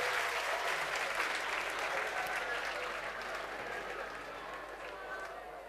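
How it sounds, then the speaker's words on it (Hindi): A seminar crowd applauds students who scored around 98 percent, dense, sustained clapping filling the hall that slowly fades toward the end, with a voice faintly underneath. "जोरदार तालियां इनके लिए।"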